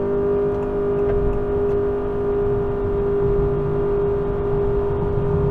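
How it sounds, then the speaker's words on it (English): A 2023 Honda Accord Hybrid in sport mode launches from a brake-torque start, a loud, steady engine drone with a sustained whirring tone heard from inside the cabin. "let's go ahead and torque brake it and go"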